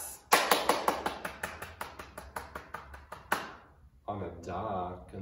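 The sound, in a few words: children imitating thunder claps with snapping and tapping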